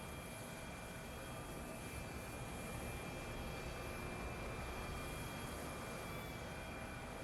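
A modded plane in Factorio flies along as a steady, even engine drone with constant hiss and no changes in pitch, heard on its own without any talk.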